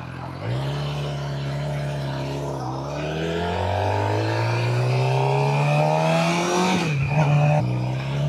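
A Suzuki GSXR 600 motorcycle accelerates hard through the gears, its engine pitch climbing steadily, dropping briefly at a shift, then rising again, loud and close.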